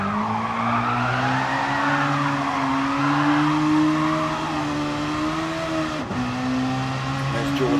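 Racing-game cars drift with sustained tire squeal over a steady engine drone, loud and continuous, with one brief sharp knock near the end.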